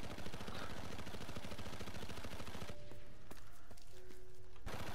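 Gunfire in the World War II shooter Enlisted: rapid, loud automatic bursts rattle continuously at first, then thin to a few scattered shots.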